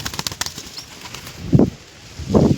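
A flock of pigeons settles down from above: quick light wing flutters at first, then two louder, close bursts of flapping as birds land, with no voices.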